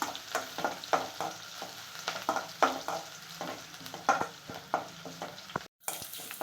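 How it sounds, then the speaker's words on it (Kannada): Crushed garlic frying in a pan, with a crackling sizzle and frequent rhythmic spatula scrapes and knocks against the metal, close and steady, cut by a brief gap near the end, no speech. "ಬೆಳ್ಳುಳ್ಳಿ ಎಲ್ಲ ಫ್ರೈ ಆಗಿದೆ"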